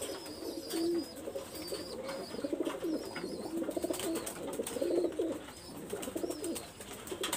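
Pakistani High Flyer pigeons coo in repeated throaty rolls close by, with a few faint chirps over the steady murmur of the flock and no voices.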